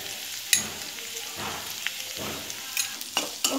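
Capsicum curry base frying and sizzling in a pan, a steady crackling hiss with occasional stirring scrapes and sharp pops, close and moderately loud with no talking.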